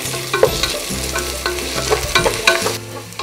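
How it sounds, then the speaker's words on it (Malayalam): Onion, carrot, crushed garlic and ginger stir-fried in a pan, with a steady close sizzle broken by repeated scraping and clanking strokes of a spoon against the pan. "ഇപ്പോൾ ഉള്ളിയും ക്യാരറ്റും ഒരുവിധം ആയിട്ടുണ്ട്. ഇതിലേക്ക് ഒരു 3 വെളുത്തുള്ളി അല്ലിയും ഒരു ചെറിയ കഷ്ണം ഇഞ്ചി ചതച്ചത്"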